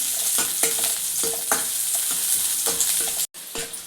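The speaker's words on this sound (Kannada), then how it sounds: "ಈಗ ಎಣ್ಣೆ ಕಾಯ್ದೈತೆ ಈರುಳ್ಳಿ ಹಾಕ್ತಾಯಿದ್ದೀನಿ" Chopped onion sizzles and crackles in hot oil, with regular stirring scrapes every half second or so, steady and close, no voices.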